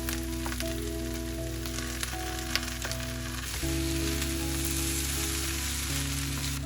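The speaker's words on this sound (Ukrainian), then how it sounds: "Так класно підсмажилися грибочки." Steady sizzling of mushrooms and onion frying in a pan, continuous crackle with a faint hum underneath, no talking.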